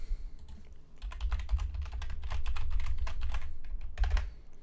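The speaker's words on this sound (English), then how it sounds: "Sorry if you hear me clicking and clacking." Rapid clicking and clacking of a computer keyboard being typed on, a steady run of keystrokes with a few short pauses, close and fairly loud over a low hum, no talk.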